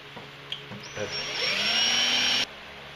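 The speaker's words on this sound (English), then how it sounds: "They're steel rivets and they're a pain to drill out." A few clicks and bumps, then a power drill whines steadily for over a second before cutting off abruptly while drilling out steel rivets.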